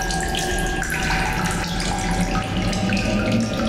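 Steady running water in The Solus Project video game on a cold, stranded alien planet, a loud continuous splashing and gushing like a tap pouring, heard alone without talk.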